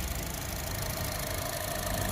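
A 2013 Honda Jazz RS GE8 automatic idles with the air conditioning running, a steady, even engine hum and rattle heard up close with no voices.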